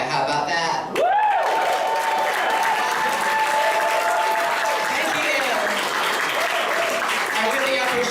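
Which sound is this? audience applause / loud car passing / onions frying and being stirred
audience applause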